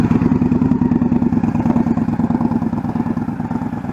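A motorcycle engine during a riding lesson runs loud and close with a rapid, steady pulsing thrum, the revs held fairly even with small rises and dips throughout.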